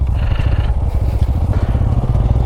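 Motorcycles pass a barricade set across the road at Bhupathi reservoir in the Maredimilli hills, giving a close, steady putter of engines with light clatter and no pause.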